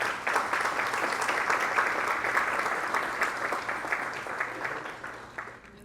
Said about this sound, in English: Let's have a huge round of applause for our sponsors.